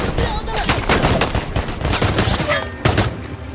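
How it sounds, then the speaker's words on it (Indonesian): Dense bursts of gunfire from a movie shootout against a Mexican drug cartel, rapid overlapping shots and automatic fire crackling continuously, loud and close, with voices faintly mixed underneath. "para tersangka melepaskan tembakan"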